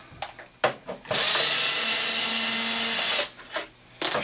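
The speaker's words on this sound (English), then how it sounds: "I just happen to have mine on a screw gun. Move all these long screws." A screw gun fitted with a number 10 Torx bit backs long screws out of an Xbox 360 console, a loud close whine of about two seconds framed by short bursts of trigger pulls and clicks.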